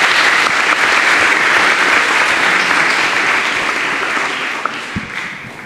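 Audience applause at a talk on hip-hop at Sciences Po Paris: a large crowd claps loudly and steadily, the sound slowly thinning and fading toward the end.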